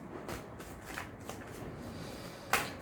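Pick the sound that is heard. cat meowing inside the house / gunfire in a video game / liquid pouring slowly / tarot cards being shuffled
tarot cards being shuffled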